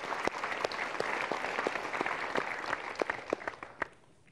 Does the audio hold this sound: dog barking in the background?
no